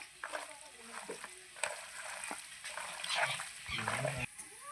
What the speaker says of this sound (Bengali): এখানে কিন্তু আলু ভাজা হচ্ছে হ্যাঁ মাংসের আলুটা ভাজা হচ্ছে